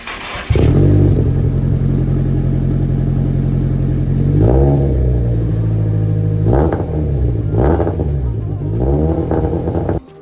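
A Nissan Skyline R34 four-door JDM car with a newly mounted exhaust idles at a deep, loud burble, then is blipped through several sharp revs that rise and fall back, close to the listener.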